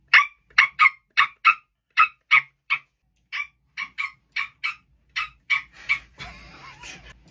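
A person's voice mimics a small puppy barking, giving a quick string of about sixteen sharp, high yips in close succession, ending in a brief breathy rasp, with no other talk.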